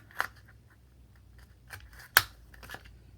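A handheld corner rounder punching through thin card, heard as a few sharp, close clicks with one loud snap near the end amid quiet handling, no talking.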